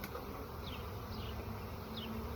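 Honey bees buzzing at an open hive box with capped honey on a cloudy day, a dense continuous drone close by, with individual bees whizzing past now and then.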